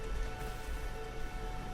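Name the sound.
rain falling in the video game Elden Ring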